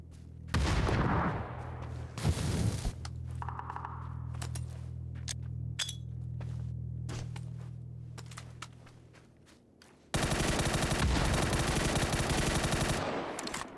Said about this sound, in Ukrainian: Команди за зоною стріляли.